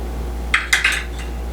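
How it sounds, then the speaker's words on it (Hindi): A utensil clinks and scrapes against a bowl a few times in quick succession while tandoori chicken marinade batter is mixed, over a steady low hum. "बैटर को हम अच्छे से मिक्स कर लेंगे।"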